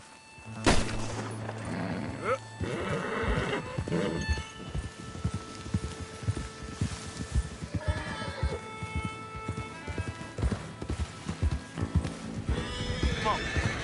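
Horses in the Red Dead Redemption 2 video game neigh and whinny loudly, with steady clip-clopping hooves and occasional distant gunfire, while a man urges them on throughout.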